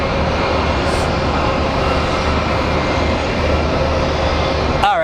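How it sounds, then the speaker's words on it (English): A United Airlines airliner arriving at Phoenix Sky Harbor airport, its steady broadband jet engine roar holding loud and constant throughout, with a faint brief tone near the end. "Alrighty, we have our United Airlines coming in."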